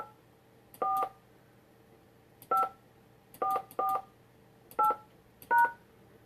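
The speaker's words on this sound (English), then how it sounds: "When finished, press the pound key." A host PIN is entered on a telephone keypad, six separate dual-tone DTMF beeps pressed at an uneven pace over a quiet line, each short and clear.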